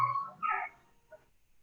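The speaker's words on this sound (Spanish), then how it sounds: "A alguien le están ladrando a sus perros." A dog gives a short yelping bark and then a whimpering yip, with a faint little yip after a pause, quiet and fairly close in an otherwise silent room.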